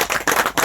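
Brief applause and clapping from a small crowd at a Georgian benchrest shooting federation F Class Mini tournament prize announcement, dense and close, in short bursts with slight dips.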